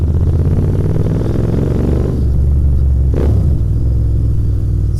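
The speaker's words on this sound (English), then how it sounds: "Sound of this bike is lovely" Royal Enfield Interceptor 650 motorcycle with a loud aftermarket exhaust rumbling steadily through city streets, engine note close and continuous, with a brief throttle blip and rev change near the middle.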